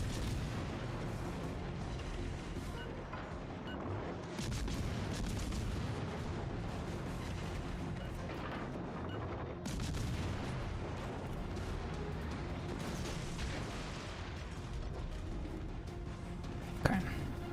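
Warship guns fire in a naval video game, including an Alaska-class ship, as faint, muffled booming salvos over a continuous low rumble, with a sharper pop near the end.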